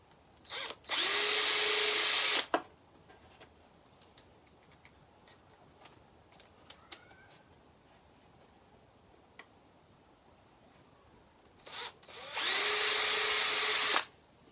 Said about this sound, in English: we'll drill them here. Starting out with a real little bit, and then I'll drill through the top once I see it poking through